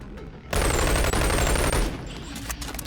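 Rapid M16 rifle fire in a sustained loud burst lasting over a second, followed by fading echoing shots, with no talking.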